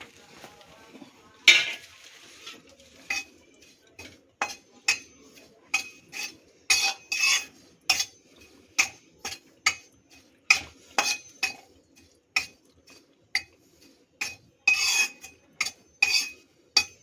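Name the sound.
dry roasting kasuri methi in a pan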